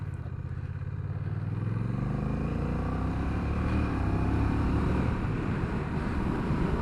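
A Honda CMX1100 Rebel DCT cruiser motorcycle rumbles along on the road, its engine note rising steadily under constant wind rush, with no talk.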